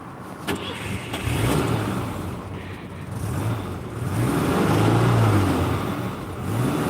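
A car engine cranks and fires, then idles and revs in rising, sustained swells, heard close with a low rumbling drone between the revs.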